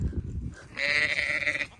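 A ewe with her newborn lamb lets out a single close, nasal bleat after some brief rustling and handling noise.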